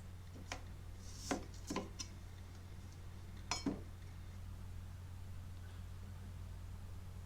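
A knife cuts a peeled radish into pieces on a board, with a handful of sparse, crisp chops spread out over a quiet, steady background hum.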